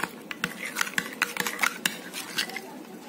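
A spoon clinks and scrapes against a bowl while chicken shawarma marinade ingredients are mixed, giving irregular sharp taps and stirring rustles at close range.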